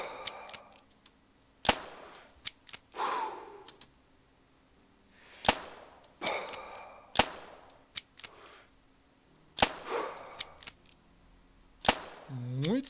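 Rifle shots ring out in The Hunter Classic during a snow goose hunt, several sharp cracks spaced a few seconds apart with short echoing tails, and a man murmurs quietly between them.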